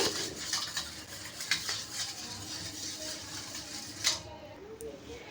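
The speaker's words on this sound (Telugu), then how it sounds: "ఎగ్గులు కొట్టి వేసుకున్న తర్వాత కొద్దిగా మిరియాల పొడి, తర్వాత కొద్దిగా సాల్ట్ ఇవి వేసుకొని బాగా కలుపుకునేయాలి" Eggs being beaten with pepper powder and salt in a bowl: a steady wet stirring with light clinks of a utensil against the bowl, close and moderate in level.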